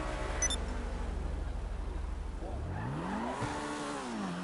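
Porsche with carbon fog lights accelerating at an open house car meet, the engine note climbing and falling through gear changes, close and loud over a constant low rumble.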